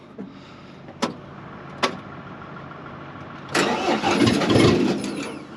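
A piece of construction equipment being readied for loading onto a trailer: two sharp clicks, then its engine bursts into a loud, rough rumble that swells and surges with the throttle for the last couple of seconds.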